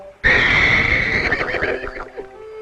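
A horse gives a single loud, close neigh that starts abruptly, holds high, then shudders and breaks into a fading whinny.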